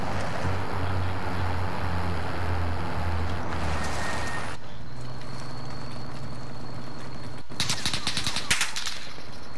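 Automatic gunfire in Call of Duty Warzone, a battle royale shooter, with sustained rattling shots under a steady engine-like drone and a louder burst of fire near the end.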